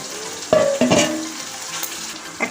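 Chicken frying in hot oil with chopped capsicum for chili chicken gives a steady sizzle, with a few sharp stirring scrapes near the start, close and fairly loud, and no voices.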